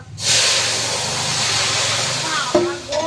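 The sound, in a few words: curry poured into hot oil, sizzling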